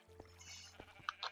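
Sheep bleat in a farming video game over a low steady hum, with a few short soft thuds and two brief, faint, high bleats near the end.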